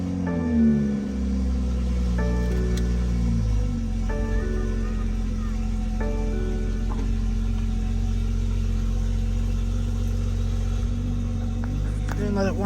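A BMW M340i with the B58 engine starts up after an oil change and settles into a steady idle, a low continuous hum with a few brief chime-like beeps over it, close and alone.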